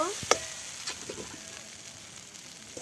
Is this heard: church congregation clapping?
no